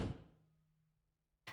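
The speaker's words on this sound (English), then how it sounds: "The door slammed" A door slams shut with one loud, close thump that decays over about a second, then a second brief knock follows at the very end.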